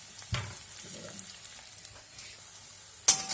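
Mung dal fries over a low flame in a pan with oil, dried red chilies and a bay leaf, a soft, faint sizzle with a few light stirring clinks and a sharper scrape at the end.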